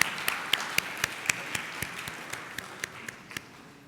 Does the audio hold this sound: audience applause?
yes